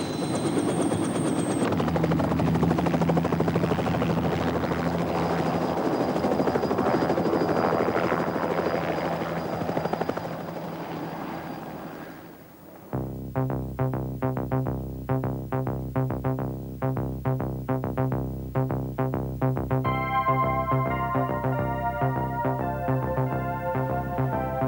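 A helicopter carrying an aerial photographer over the yachting waters off Cowes gives a loud, steady rotor and engine roar for about twelve seconds, then rhythmic music takes over.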